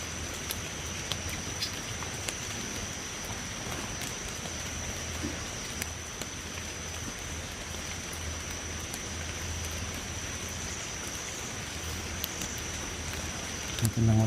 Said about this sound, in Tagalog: Ngayon nabutan na tayo ng ulan, no.